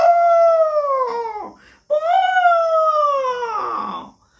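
A storyteller's voice imitates an elephant trumpeting in a Hindi children's story. Two long, wavering, howl-like calls are heard close and loud, separated by a short break.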